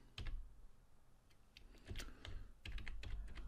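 Quiet typing on a computer keyboard, uneven bursts of soft key clicks with short pauses between them, heard alone at low level.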